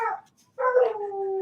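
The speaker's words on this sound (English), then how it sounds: "I'm sorry, that's my dog singing." A dog howls nearby: a brief yelp, then a short pause, then a sustained tonal howl that holds steady until the clip ends.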